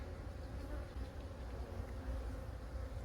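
A honeybee colony that is gathering nectar without being fed gives off a dense, even hum of many bees, quiet but continuous and close, with no voices over it.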